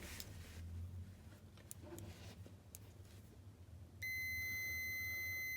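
A steady electronic beep from a multimeter's continuity test on a fuse starts partway through, sounding loud and close after a stretch of quiet room noise.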